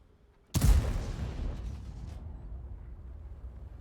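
A tank destroyer's gun fires once in a tank video game, a single loud close boom with a sharp attack that rolls off into a long rumbling tail and lingering low noise.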